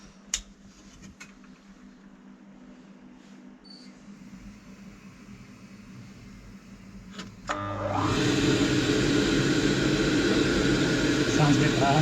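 An oil boiler fired up after a new capacitor is fitted: a quiet hum first, then a steady roar kicks in at about eight seconds and runs on evenly, with a voice speaking early on.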